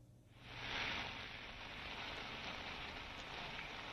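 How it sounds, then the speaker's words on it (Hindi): Heavy rain from Cyclone Nisarga pouring at the Gateway of India in Mumbai, a dense, steady roar of downpour that swells within the first second and stays loud and continuous, with no talk. "आप देख सकते हैं बारिश तेज हो रही है"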